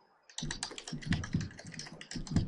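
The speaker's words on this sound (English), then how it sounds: "And we'll type in" Rapid, close typing on a computer keyboard as a search is entered, a continuous run of crisp key clicks lasting about two seconds with no talk.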